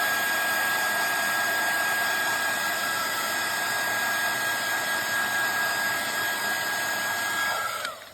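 A handheld dryer blows steadily on embossing craft work, a loud constant whirring hiss with a faint high whine that cuts off at the very end.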